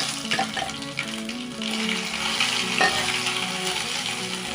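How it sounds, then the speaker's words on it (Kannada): Ginger garlic paste hitting hot peanut oil with spluttered mustard and cumin seeds for a capsicum stir-fry, a steady close sizzle with a few sharper crackles and pops. "ಈ ಶುಂಠಿ ಬೆಳ್ಳುಳ್ಳಿ ಪೇಸ್ಟು ಸ್ವಲ್ಪ ಹಸಿ ಸ್ಮೆಲ್ಲೆಲ್ಲ ಹೋಗೋವರೆಗೂ ಇದನ್ನ ಫ್ರೈ ಮಾಡ್ಕೋಬೇಕು"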